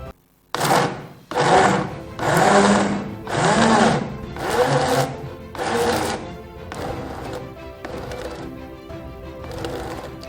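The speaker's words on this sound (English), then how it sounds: "you can hear that the speed, the sound of the blender has come down" A Silver Crest commercial blender grinds cassava with a little water for fufu, its motor whirring loudly in separate surges with short pauses between them, then settling into a lower, steadier drone as the speed drops.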